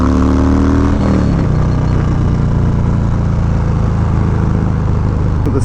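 A small, powerful motorcycle engine revs loud and close during a ride, dropping from a high rev in the first second into a steady rough drone that holds to the end.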